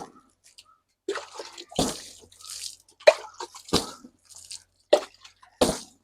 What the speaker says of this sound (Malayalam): ഇനി നമുക്ക് വെള്ളമൊഴിച്ച് കഴുകാം അപ്പോൾ നമ്മൾ വെള്ളമൊഴിച്ച് കൊണ്ടുണ്ട് കേട്ടോ